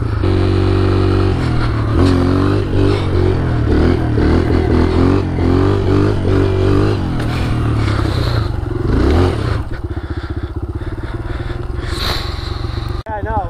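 A stunt motorcycle idles out in the snow, its steady throbbing engine loud and close, with speech over it and rising revs, then a rougher rattle toward the end.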